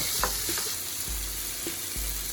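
Meatballs fry and caramelize in a pan: a steady, close, loud sizzle runs throughout, with a few soft knocks as they are turned and stirred.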